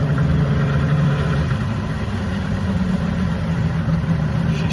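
A Mercury Black Max 200 outboard engine on a 17.5-foot boat idles steadily and close, a constant low rumble with an even mechanical drone and no revving.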